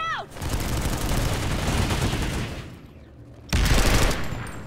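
Dense, continuous gunfire from a large online battle in Planetside 2 on PS4, a steady rattling barrage with booms, then a brief lull before another loud burst of shooting erupts nearby.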